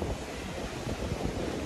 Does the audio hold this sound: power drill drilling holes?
no